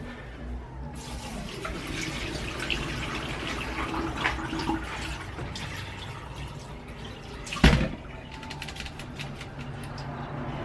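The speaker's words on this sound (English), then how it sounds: "So next we're gonna go ahead and drain out the water." Rinse water is poured off raw pork into a draining bowl in a kitchen, making a continuous splashing, trickling flow with one brief louder splash near the end.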